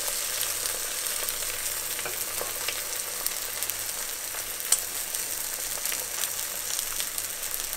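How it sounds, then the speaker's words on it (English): An egg fries in a pan for kimchi fried rice, giving a steady, close hiss and crackle that continues unbroken, with occasional sharper pops and no talking. "I'm going to reduce the heat to medium, and I will let that cook for as long as it takes for the egg white to settle"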